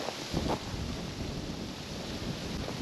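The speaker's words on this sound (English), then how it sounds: "It's pretty windy today." Steady wind roaring across the microphone, a constant broadband rush with a brief gusty swell near the start, no voices.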